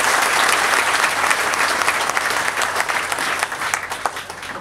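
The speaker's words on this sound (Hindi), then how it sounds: "तो एक बार दोनों बच्चों के लिए शानदार ताली बजाएं।" Loud, dense audience applause for two students at a coaching institute event celebrating air force Y group selections, sustained and even throughout.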